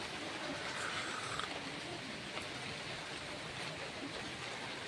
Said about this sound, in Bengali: আর সকালে ঘুম থেকে উঠে দেখি খুব বৃষ্টি হচ্ছে